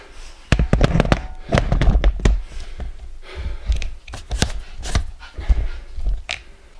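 A pet dog scrambles and pants around a room while hunting a mouse under a dresser, with rapid bursts of scuffling, thumps and breathy huffs close by, loud and irregular.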